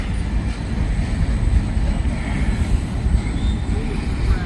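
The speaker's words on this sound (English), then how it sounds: "One locomotive wonder here." A single locomotive train rolls past at night, a loud, continuous low rumble and rattle of wheels on rail, steady and fairly close, with a faint voice briefly audible beneath it.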